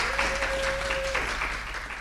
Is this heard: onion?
no